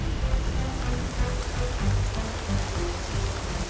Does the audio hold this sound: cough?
no